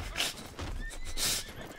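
A horse whinnies twice in close, loud bursts about a second apart, with faint hoof clops and rumbling background between calls.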